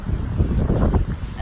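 Strong gusty wind buffets the microphone beside a pond on a wet autumn day, a loud, low, continuous rumble with no voices.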